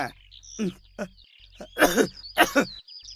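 Several short, harsh coughing bursts close by, the last two louder and clustered, with a brief throaty sound near the start.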